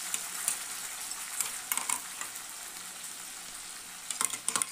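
Ground spices fry in hot oil with cumin, bay leaf and dried chilli, giving a steady crackling sizzle close by, broken by light scraping stirs and a few sharper clicks toward the end.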